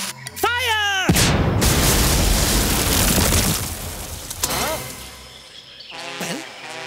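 Lit Chinese powder goes off in a cartoon with a loud, sustained burst of explosive crackling and rushing noise. Whistling tones come before and after it, and cartoon voices speak around the blast.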